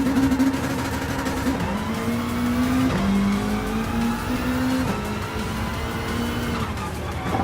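A WRX Gr.B rally car races in Gran Turismo Sport, its engine revving up and down through gear changes with tire squeal and skidding, loud and continuous.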